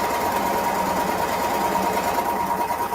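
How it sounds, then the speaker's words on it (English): A sewing machine stitches a gathered ruffle onto fabric in a continuous, close, evenly buzzing run with no pauses. "So let's sew off."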